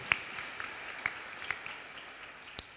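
A church congregation applauds the Lord with a faint, distant wash of clapping, broken by a few sharper individual claps.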